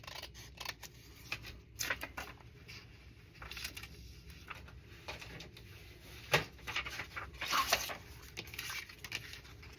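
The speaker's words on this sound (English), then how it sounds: "Looks like I have to trim just a teeny tiny sliver off of this." Paper being trimmed with scissors while making ephemera, giving close, quiet, intermittent snips and rustles with small crisp clicks.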